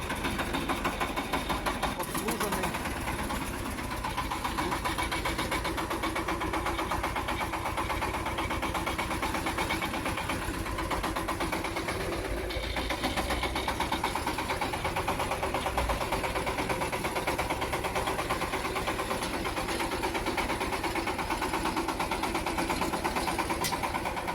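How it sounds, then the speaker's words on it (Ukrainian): A Shifeng 354 two-cylinder tractor with three-point hitch and front axle idles close by during loading, a steady loud rhythmic chugging with no break, while someone talks over it. "Іде от грузочка 354-го шифінга двоциліндрового з примусовою навіскою, з передком."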